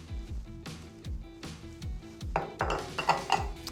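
Flour, baking soda and other dry ingredients for spiced gingerbread with dried fruit stirred together in a bowl: a utensil knocks the bowl in a steady rhythm of about eight clinks, then turns to busier, scraping strokes. No one speaks.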